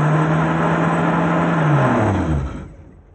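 A repaired car starter motor runs on a direct battery hookup with a steady loud whir, then winds down with a falling pitch as power is cut near the end.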